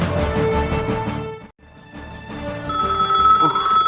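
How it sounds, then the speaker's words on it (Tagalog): Telephone bell ringing in a drama scene, a repeated electronic ring that pauses briefly, then continues with steady tones over a background of music. "Telepono."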